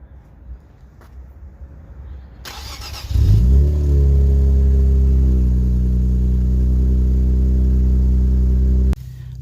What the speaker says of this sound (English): let's do a quick startup